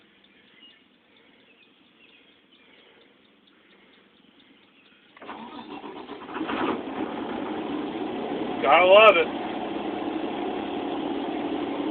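An old bus engine cranks and fires up after sitting unused for nearly a week on low fuel, then settles into a steady, fairly loud idle that rumbles on to the end, with a brief voice over the running engine.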